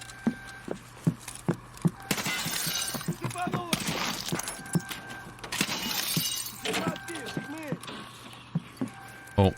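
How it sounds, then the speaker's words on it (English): Glass shatters in a first-person shooter's lab map amid sharp crashes and clattering impacts, with louder breaking bursts mid-clip over ongoing game noise and a voice talking throughout. "Oh, we got glass breaking."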